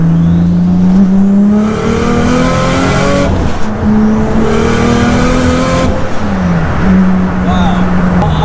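A 700bhp Nissan Skyline with a loud exhaust pulls hard in third gear, its engine note climbing steeply through the rev range in a roaring, raspy sweep heard from inside the car, with brief dips at shifts.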